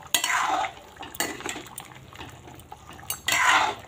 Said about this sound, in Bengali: তো মাংসটা নেড়ে নিই, গরম মশলা দেওয়ার পরে একটু নাড়িয়ে নিলাম